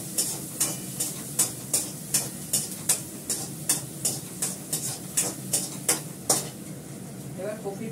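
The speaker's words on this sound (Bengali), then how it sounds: "পরে আমি জিরেটা ফোড়ন দেবো।" Cumin seeds frying in oil over a low gas flame in a home kitchen give a soft sizzle beneath a steady series of regular, sharp clicking knocks, close and evenly spaced, roughly two per second.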